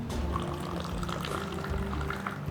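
Liquid pours steadily into a teapot packed with fresh mint for Moroccan mint tea, a continuous close trickle lasting a few seconds with no talking.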